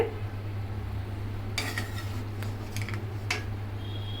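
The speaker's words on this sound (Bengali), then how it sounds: "এখন আমি আপনাদের প্লেটে পরিবেশন করে দেখাচ্ছি" Cooked Afghani Kabuli pulao rice being served onto a plate, with a few soft clinks and scrapes of a spoon against the dishes, close by over a low steady hum.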